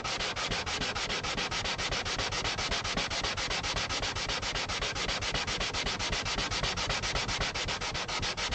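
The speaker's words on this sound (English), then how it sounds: "somebody sit here and run sandpaper for this long" Sandpaper is rubbed by hand over an acoustic guitar in fast, even back-and-forth strokes, a loud continuous rasp with a steady rhythm.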